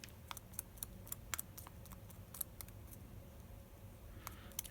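Scissors snip paper for a budget journal page, with a series of small, sharp, quiet cuts scattered irregularly over a soft background.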